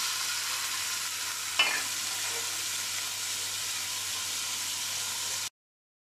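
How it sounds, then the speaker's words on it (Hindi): Paneer shallow frying in a pan with a little oil gives a steady, even sizzle and hiss, with one brief clink or stir near the start and no talk, ending abruptly. "इसमें हम अपने पनीर को डाल देंगे और थोड़ा सा तेल डाल के हम ये पनीर को जस्ट शैलो फ्राई करेंगे।"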